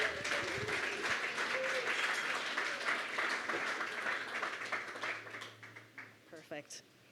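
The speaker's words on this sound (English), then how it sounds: "How about another round of applause for our panelists?" Audience applause for a panel at a public talk event, a broad steady clapping wash that tapers off near the end as a voice begins speaking.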